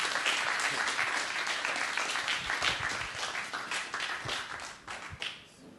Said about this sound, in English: another round of applause for Farida